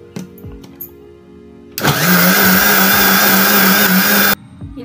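A kitchen mixer grinder grinds spice masala with water for a South Indian horse gram sambar, starting abruptly with a loud, steady high whine and whirring roar that holds for about two and a half seconds before cutting off.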